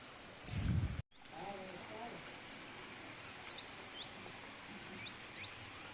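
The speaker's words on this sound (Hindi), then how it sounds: "ये बारिश हल्की हल्की हल्की हल्की बारिश।" Faint, steady patter of light rain on a hill farm with soft background hiss, preceded by a brief muffled thump near the start; quiet and distant, with faint bird chirps.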